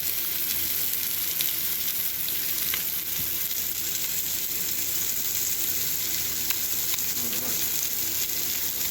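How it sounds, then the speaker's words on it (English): Bacon-wrapped beef sears in a hot pan with a steady, dense sizzle throughout, a constant crackling hiss with faint scattered pops and a slight watery undertone. "you can see the bacon shrinking, and as it's shrinking, it's pulling that beef together, and it's searing the underside of that bacon up"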